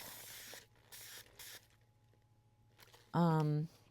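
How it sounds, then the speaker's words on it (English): Three short bursts of spray hiss in quick succession over the top of a resin tray, followed by a pause and a brief voice. "Now, I'm gonna spray the top."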